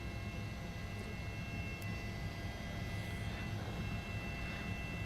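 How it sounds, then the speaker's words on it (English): A steady, dense engine drone persists throughout, the constant roar of a police helicopter overhead during a pursuit, with no breaks or speech. "letting the helicopter follow him here."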